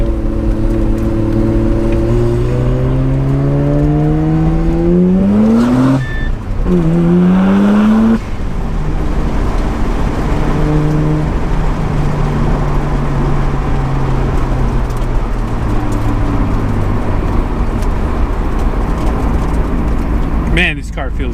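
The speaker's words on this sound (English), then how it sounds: "So I'm gonna take the RX-7 out, go for a little cruise with you guys." A Mazda RX-7 FD sports car engine revs up and shifts repeatedly, its pitch climbing and dropping, then settles into a steady cruising hum with occasional talk inside.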